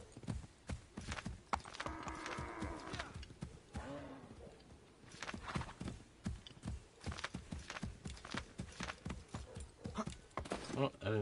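In the video game Assassin's Creed III, a horse's hooves clip-clop in a steady, brisk rhythm throughout, with a brief whinny partway in and someone talking over it.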